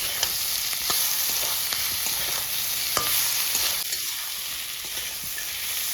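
Fried potatoes with spices being stirred in a hot pan, a steady crackling sizzle with light scraping strokes of the spatula repeating throughout, close and continuous with no talking.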